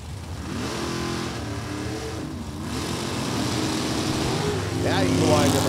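A drag racing car at an NHRA event revs and launches down the track with a loud, rising engine roar that climbs in pitch toward the end, while an announcer talks over it.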